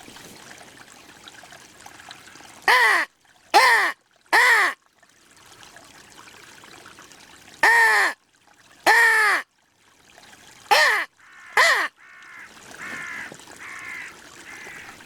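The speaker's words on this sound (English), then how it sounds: "So I went straight back onto the crow call again." A crow caws in answer to a crow call during rimfire and centerfire hunting, with loud harsh calls in short bursts spread across the stretch, some in quick pairs, over a quiet outdoor background with faint trickling water.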